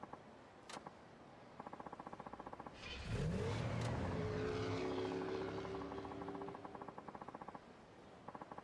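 A flashy sports car, the Vixen Zero, in Yakuza 5 Remastered, its engine revving up loudly and climbing in pitch, holding a strained roar for several seconds before easing off, with a rapid rhythmic ticking before and after.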